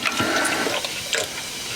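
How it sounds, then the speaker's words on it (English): Liquid poured into a cup during an entry table build, a steady close splashing stream with brief louder gurgles, heard alone without talk. "very carefully pour it into our cup"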